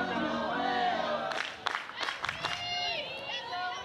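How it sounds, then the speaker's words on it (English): Fans at a college women's softball game between UNC Greensboro and Clemson cheer a batter, with crowd noise and shouts from the stands rising in bursts, while voices talk nearby over the background. "Crowd cheering on Logaleo."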